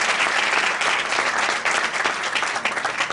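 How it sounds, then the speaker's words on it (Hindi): Loud, sustained applause from a church congregation at a Hindi-language Christian worship service, a dense wash of clapping that holds steady throughout with no speech over it. "जोरदार ताली बजाकर हम अपना परमेश्वर को, यीशु मसीह को धन्यवाद करें।"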